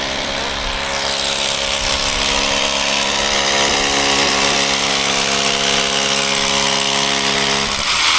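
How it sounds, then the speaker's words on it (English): A Sawzall reciprocating saw notches a piece of wood, giving a loud, steady buzzing drone that runs almost the whole time and cuts off near the end. "And then I had the Sawzall. You just want to notch it"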